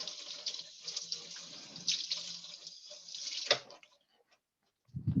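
A green onion is rinsed under a running kitchen tap: water splashes and hisses close by for about three and a half seconds, then shuts off, followed by a brief low knock.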